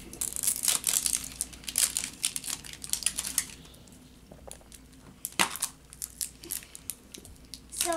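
Crinkly plastic wrappers on Dora candy eggs are torn open and crumpled in bursts of close, sharp rustling and ripping, with quieter pauses between handfuls.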